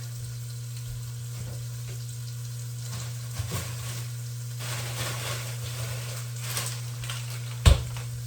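Pork and green beans sizzle and fry in a pot, a steady soft hiss over a low constant hum, with a few faint stirring knocks and one sharp clunk near the end.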